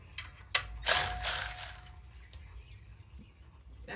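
A ratchet loosens the alternator bolt on a Chevrolet C10 with a quick burst of clicking pawl teeth and a few metallic knocks, close and fairly quiet.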